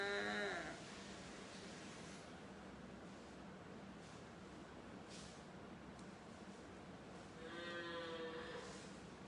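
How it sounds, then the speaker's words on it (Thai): Two loud, drawn-out cow moos in the countryside, one at the start and one near the end, with steady outdoor background noise in between. "ได้ยินเสียง วัวไหมวัวร้อง"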